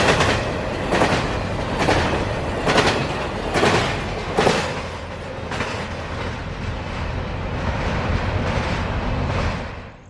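Freight train IO44 rolls past close by, loud and continuous, with rhythmic clickety-clack wheel beats on the rails early on, then a steady rumble that drops off at the very end.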